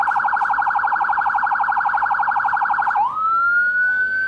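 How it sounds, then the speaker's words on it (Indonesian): Whelen Euro 60-watt siren module playing a fire engine siren: loud, close, rapid warbling tones for about three seconds, then a switch to a steady rising wail. "Ini adalah siren yang digunakan pemadam kebakaran"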